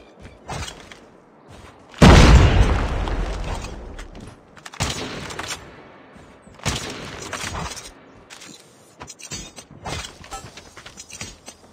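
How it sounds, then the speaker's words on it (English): A grenade detonates in a Call of Duty match with a loud, sudden boom that decays over a couple of seconds, followed by further bursts of gunfire and battle noise. "Grenade out!"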